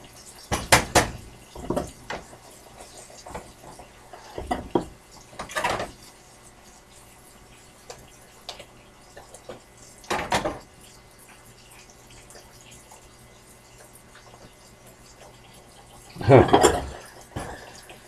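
Onions are stirred in a pan in a home kitchen, giving a few scattered scraping, clattering bursts of utensil on cookware with long quiet gaps between them.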